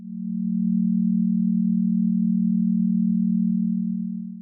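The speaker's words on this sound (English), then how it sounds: "Binaural beats. These, as the name suggests, are like monaural beats, except the sounds are delivered to 2 ears." A steady, continuous low hum of binaural beats, meant to be heard with one tone in each ear, holds at an even level throughout with no other sounds.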